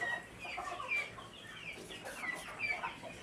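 A young chick clucking and peeping in short, repeated high chirps, close by and fairly quiet, over a soft background.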